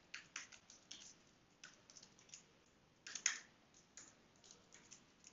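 Typing on a computer keyboard while entering a command in a terminal, a quiet, irregular run of light key clicks in short bursts with brief pauses, close and alone.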